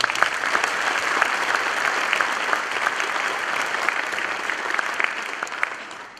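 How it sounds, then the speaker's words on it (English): Loud, sustained applause from an audience at a National Honor Society induction ceremony, dense clapping from many hands held steady throughout before tapering at the very end. "Give them a round of applause, please."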